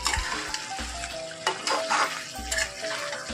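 A watery chicken kosha with potatoes simmers and bubbles in a pan, giving a soft sizzle with intermittent scraping and clinks from stirring nearby and no voices.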